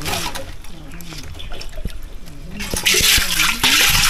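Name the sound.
water being drained from a tank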